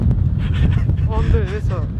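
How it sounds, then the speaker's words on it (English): Strong gusting wind on a hill climb in Wales roars across the microphone, a constant low rumble with a voice talking over it. "It's muchos windy."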